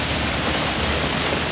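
Steady, dense rain falling in a garden yard after an 80 mph wind and rain storm, a constant close hiss with no breaks or voices.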